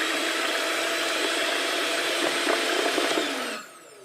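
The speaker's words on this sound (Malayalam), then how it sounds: "ഇപ്പം ഞാൻ വാനില എസൻസും കൂടി ഇട്ടിട്ട് നമ്മളിതൊന്ന് ബീറ്റ് ചെയ്തെടുക്കാൻ പോകണം." A hand-held electric mixer beats cream with vanilla essence for red velvet cake icing, giving a loud, steady whirring drone that cuts off near the end.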